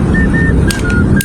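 A bird calls in a short series of thin honking notes, repeated about five times over a dense, noisy outdoor background with occasional clicks.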